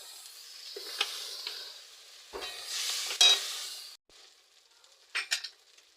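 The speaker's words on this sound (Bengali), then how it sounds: "জিরের গুঁড়ো দিয়ে এবার কষিয়ে নেব সামান্য জল দিয়ে দেবো" Cumin powder and chilli masala sautéing in a pan as a little water goes in, with a hissing sizzle that surges and fades over stirring scrapes. It ends quieter with a couple of sharp spoon clinks and no talking.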